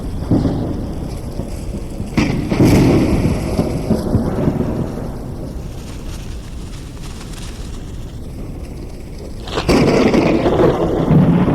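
Thunderstorm in the video game Forever Skies: steady rain with low rolling thunder rumbles and a couple of louder cracks, near and loud, no talk.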